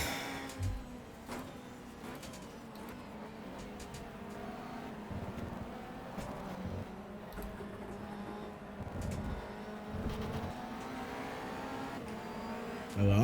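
Ferrari 360 Modena race cars in the GTR racing game at Enna-Pergusa, a steady engine drone with several cars whooshing past in turn, moderately loud and continuous.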